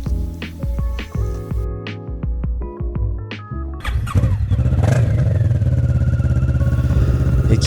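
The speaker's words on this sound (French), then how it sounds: "Sans plus attendre, le fameux Cold Start." A 2010 Kawasaki ER-6n with an Arrow exhaust cold-starts after a stretch of plucked music, catching abruptly and settling into a loud, steady, slightly high idle close by.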